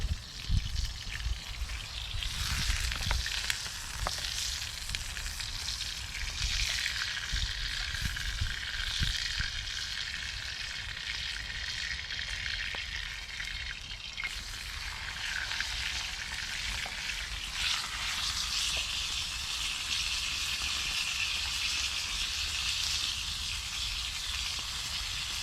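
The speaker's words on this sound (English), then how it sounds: "A bit of a close up, proves that I am cooking a steak" A steak sizzles in a pan on a winter bushcraft camping trip while peppercorn sauce cooks, a steady close frying hiss with bubbling crackle that runs continuously without talk.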